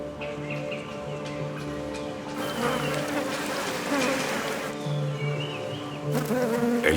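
Flies buzzing around carrion at a lagoon shore, a steady insect drone with a few louder close passes over a low background hum.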